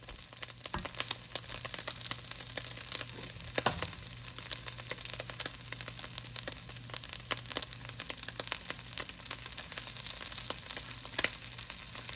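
Bacon sizzles quietly in a pan with a steady crackle, and a few scraping strokes sound against the metal.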